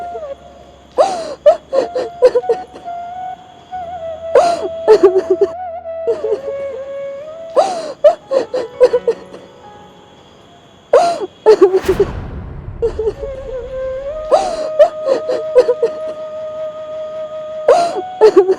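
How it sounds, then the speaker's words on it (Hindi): Someone crying near a road, with sobbing gasps and drawn-out whimpering wails that come in repeated bursts, close and fairly loud. "किसी के रोने की आवाज़ आ रही है वहाँ से।"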